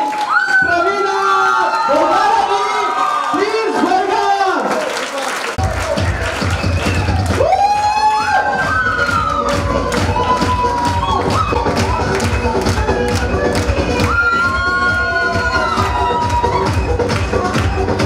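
An audience rises for a standing ovation to welcome a woman at a business event, with sustained clapping and cheering under loud music that plays throughout, including tonal melody and rhythmic beats.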